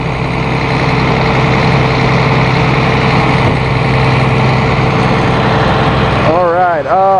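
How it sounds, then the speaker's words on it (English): A 2006 Bluebird All American 78-passenger school bus with a 7.2 turbo diesel engine idles loudly and steadily throughout, a constant low drone with a brief shift near the end. "turbo diesel engine"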